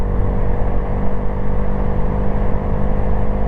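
A Honda Grom small motorcycle engine runs loud and close, a steady throaty drone with a rough low rumble and wind noise holding the whole time, with no voices.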